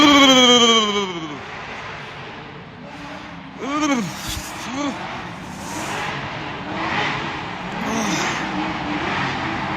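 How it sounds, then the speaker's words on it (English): A drift car with a 2JZ engine revs hard during drift practice while heating its tires, opening with a high scream that falls away, followed by repeated rev bursts and a steady mid-distance engine roar. "I think it's Alexis Harris heating up his tires with the 2JZ."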